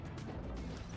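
A torpedo strikes a warship in the World of Warships naval game, a loud continuous crash of explosion and rumbling impact that fills the whole moment with dense low booming.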